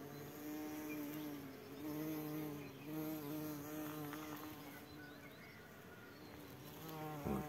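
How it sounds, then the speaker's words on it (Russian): Many bees buzz steadily over a flowering field of honey plants in a dense, humming drone that wavers in pitch as individual insects pass close by. "И гудеж здесь стоит хороший."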